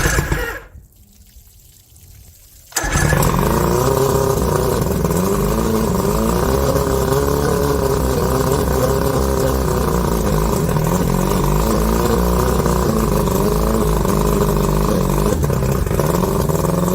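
An outboard boat motor fed by a water hose cranks after a short quiet pause, then catches and runs at a loud, steady idle with a rough, rattling drone, alone without talk.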